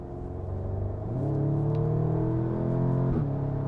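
A 2016 Audi S3 Sportback quattro with a 2.0-litre 306 bhp engine and a DSG gearbox in S sport mode accelerates from inside the car. The steady engine drone rises in pitch, shifts gear and climbs again, loud and close.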